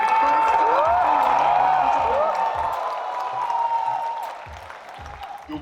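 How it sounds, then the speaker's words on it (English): Keynote audience in Mumbai, India applauding and cheering after a talk, with dense sustained clapping and whoops that slowly fade as the crowd settles. "big round of applause for none other than Patrick Bet-David for his talk."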